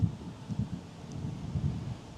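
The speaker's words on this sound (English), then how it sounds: "I hope you guys will be able to hear the thunder" Low rumbling thunder rolls faintly in the distance outdoors during a yoga session, a soft continuous grumble with slight swells, mixed with light wind noise and no talking.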